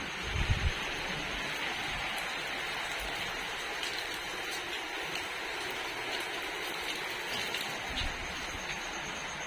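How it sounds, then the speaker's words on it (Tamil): Heavy night rain beats on a tiled house roof in a constant dense hiss, with a few low thumps near the start and end. "செம்ம ஸ்பீடாக மழை பெய்யுது"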